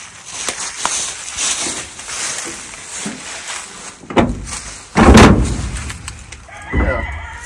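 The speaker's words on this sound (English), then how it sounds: "Maybe this door will come open." A stuck door on an old 1970 Dodge wrecker truck is forced open with two loud grinding, creaking bursts near the end, while chickens cluck and a rooster crows nearby.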